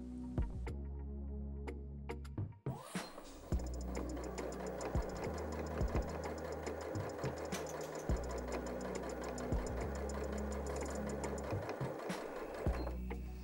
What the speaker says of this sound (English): popped a denim needle on the machine and gone back to a standard straight stitch